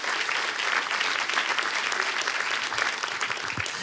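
A church congregation claps for Jesus in a steady, dense burst of applause that fills the room, sustained throughout with a faint murmur of voices underneath.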